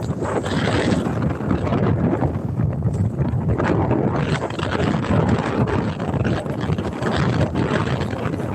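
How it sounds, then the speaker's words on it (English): Strong wind buffets the microphone on open water during inshore fishing for snook, redfish and trout from a boat, a steady, loud rushing roar filling the whole stretch with no talk. "The wind would beat you up in here."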